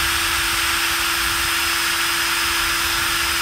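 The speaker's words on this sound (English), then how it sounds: "So I'm going to drill very carefully through." A power drill whines at a steady high pitch, close and loud, running continuously without pause while drilling through the rear light area of a Land Rover Freelander 2.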